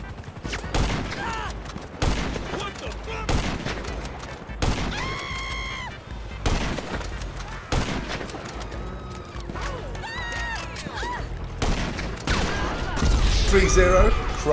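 Gunshots in GTA Online, a string of sharp separate shots spread across the stretch, mixed with game sounds, musical tones and a voice talking in places.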